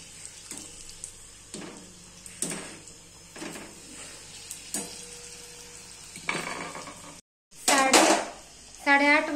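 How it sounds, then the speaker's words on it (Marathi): Puris deep-frying in hot oil in a home kitchen, with a soft continuous sizzle under scattered clinks and scrapes of utensils against a pan, a few sharper metallic knocks, and a louder burst of clattering near the end. "ही पुरी तळायचं काम चालू आहे"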